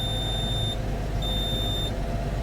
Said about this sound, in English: Oh, alarm came on.